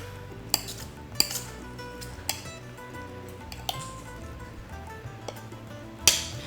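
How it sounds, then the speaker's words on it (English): A spoon stirring spaghetti squash pomodoro in a pan, with about half a dozen sharp, irregular metallic clinks against the pan over a quiet background. "Now I'm gonna go ahead and mix this in."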